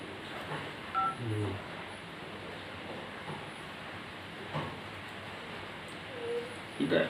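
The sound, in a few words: telephone number being dialed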